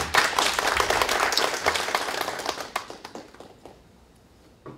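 An audience at a 2017 conference in Korea claps loudly, then the applause thins out and fades to near silence, with a few last claps at the end.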